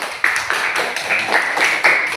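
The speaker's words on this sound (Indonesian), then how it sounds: "Beri aplaus untuk kawan-kawannya dulu." Students in a classroom clapping for their classmates, a short burst of close, rhythmic hand claps with uneven accents, fairly loud and without talk over it.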